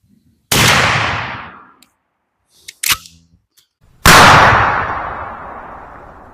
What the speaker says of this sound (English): here comes number 4 right here